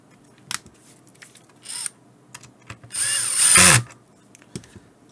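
Screws are driven in while a wireless card mount is reassembled in an HME DX300 base station. Scattered small clicks and taps lead up to one short, loud, close whirring burst near the end of the second half, followed by a few more faint clicks.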